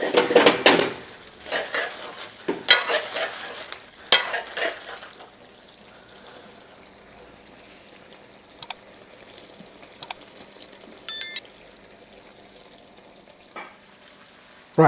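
Vegetables and tomato for a chicken jalfrezi are stirred in a pan with a soft sizzle, scraping and clattering strokes early on, then quieter frying with occasional utensil taps.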